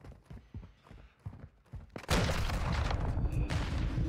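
Gunfire in a first-person shooter match: soft footsteps and faint impacts, then a loud sustained burst of shots and explosive noise that fills the second half, close and dense.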